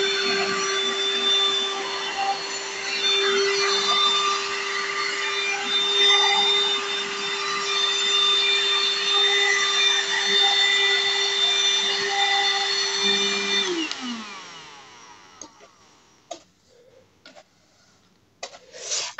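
A vacuum cleaner fitted with a small brush head tries to suck up rice, giving a loud, steady motor whine with a tonal hum. The motor then winds down and stops, followed by a few faint knocks.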